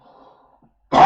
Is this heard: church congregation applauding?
no